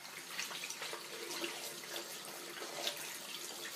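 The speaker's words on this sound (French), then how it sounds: "Hop, et on rince à l'eau claire." Clear tap water runs steadily and splashes into a sink as a face is rinsed, a soft continuous gush with small splashes and no talk.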